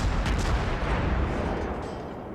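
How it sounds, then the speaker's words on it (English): Battleship gun salvos from the Wyoming in the World of Warships naval game, a heavy booming blast with rolling rumble that decays over about two seconds, loud and close. "Here comes some salvos from the Wyoming."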